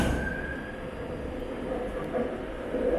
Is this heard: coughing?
no